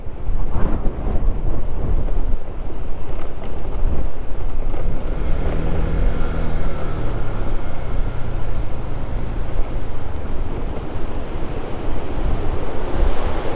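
Strong wind buffets and roars across the microphone in a cold upland spot in Nueva Vizcaya, Philippines, gusting loudly and continuously with a low rumble underneath, no one speaking.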